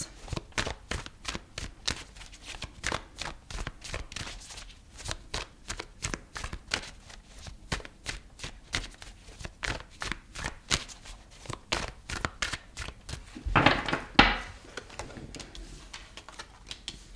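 Tarot cards shuffled close up in a long run of rapid riffling flicks and soft slaps, steady and crisp, swelling into a louder burst of riffling near the end, with no talking.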